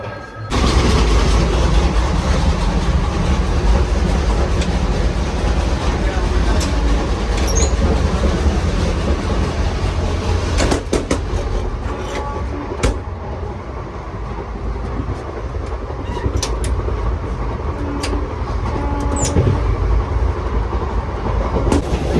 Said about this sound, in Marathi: हल्ली ट्रेन आली